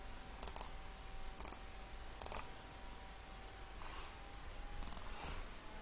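A computer mouse clicked several times in quick pairs and small clusters, faint and close in a quiet room with no talking.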